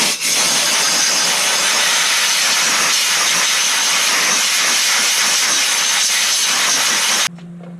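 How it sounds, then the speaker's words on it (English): Compressed air from a shop air compressor blasts loose debris off a Harley tappet oil filter screen plug, a loud, steady, close hiss lasting about seven seconds before cutting off abruptly into quiet. "So that's what the air compressor is for, so I'm just going to blow it off."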